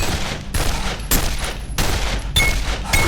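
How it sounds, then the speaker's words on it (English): An enemy fires a pistol in Condemned: Criminal Origins. Loud, sharp shots ring out about every half second, each one followed by a brief ringing decay. "There's gonna be a guy with a pistol from down there who's gonna kind of start shooting at us."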